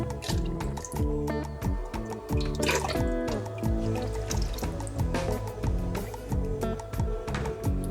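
Salak fruit flesh and cooled liquid are stirred together for wine. Close sloshes, gurgles and drips follow one another in a steady, moderately loud wet churn.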